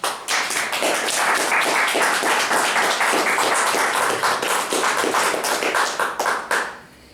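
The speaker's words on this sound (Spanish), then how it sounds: "Den un aplauso grande al Señor." A church congregation gives a loud round of applause during a Spanish-language sermon: dense, close, rhythmic clapping from many hands, steady for about six seconds before stopping abruptly.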